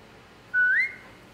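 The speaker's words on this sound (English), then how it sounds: "Now whistle and tell her to lie down." One short, bright whistle rises and then holds briefly, clear and alone, as a call to a dog in The Walking Dead: The Final Season.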